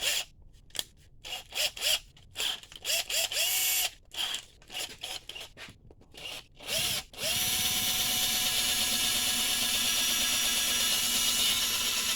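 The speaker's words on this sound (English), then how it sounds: "I'm going to start by trying to drill this thing out" A power drill whirs in short bursts with pauses, then runs continuously and loud for several seconds, grinding into a power steering pressure switch on a Dodge Intrepid or Chrysler 300.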